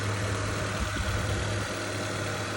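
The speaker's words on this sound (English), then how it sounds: "2017 Honda Civic sedan. K20c2 motor. Inline 4." The 2017 Honda Civic sedan's K20c2 inline-four, a non-turbo engine with i-VTEC, idles close by with a steady low hum and a faint rhythmic pulse, with no talk over it.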